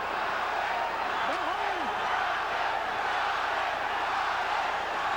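Boxing arena crowd roaring steadily at the Chavez vs Taylor fight, a continuous loud wash of cheering with a brief whistle, heard from ringside.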